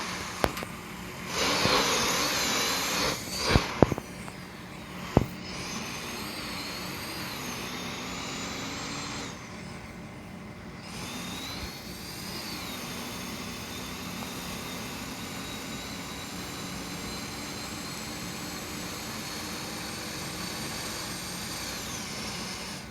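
Truck engine in a trucking video game, with a steady droning hum and a high thin turbo whine that rises and holds throughout, a few sharp clicks near the start, no talking.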